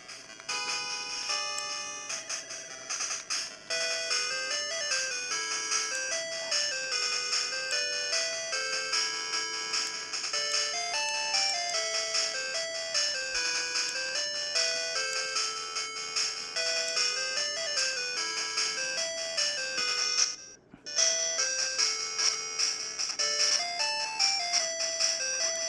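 Tetris music plays as bright, bleepy chiptune melodies from the small built-in speaker of a ModRetro Chromatic handheld, looping continuously and fairly clearly for the whole stretch with a brief dip near the end.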